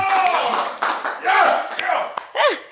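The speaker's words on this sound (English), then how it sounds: "Everybody start clapping right now." Studio audience clapping at a talk show as a guest is welcomed, short bursts of claps mixed in under loud, lively talking from the hosts.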